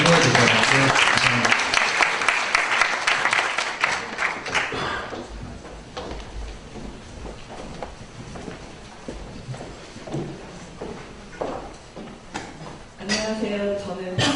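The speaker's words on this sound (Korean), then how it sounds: "박수로 좀 격려해 주세요." An indoor audience at a talk applauds with dense clapping for about five seconds, which then thins to scattered claps and shuffling before a voice begins speaking.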